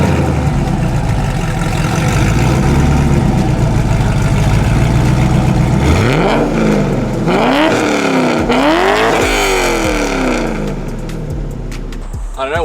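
A home-built BMW E30 with a swapped LS1 V8 rumbles at idle, then revs up sharply in several rising and falling blips, loud and close, with a deep throaty exhaust note.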